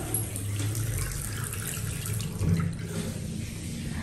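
Water running steadily from a bathroom tap in an apartment, a continuous hissing splash at moderate level with a slight swell midway, heard alone without talk.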